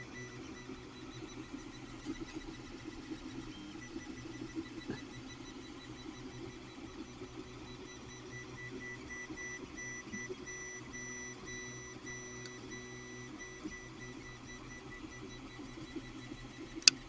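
An Ender 3 3D printer works on a Toyota emblem, its stepper motors whirring in steady tonal hums with shifting pitches as the head moves, close and fairly quiet, with a single sharp click near the end.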